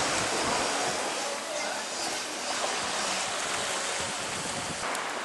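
Ocean waves wash onto the beach at Praia da Rainha in Cascais near Lisbon, Portugal, a continuous broad rushing surf with wind noise, steady and fairly loud with no break.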